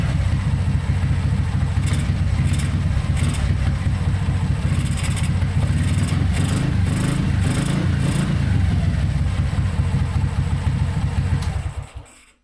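A modified Honda C90 motorcycle with a 170cc engine and freshly jetted carburettor runs close by with a steady, throbbing idle, then cuts out abruptly at the end.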